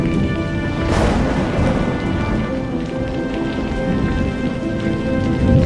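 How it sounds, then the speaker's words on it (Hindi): Heavy rain pours steadily, a thick hiss of drops, with a low rumble of thunder rolling through near the start. "बारिश लगातार दिन रात बरसती रही और पूरा गांव बारिश में डूब गया।"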